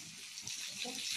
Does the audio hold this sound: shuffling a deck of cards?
no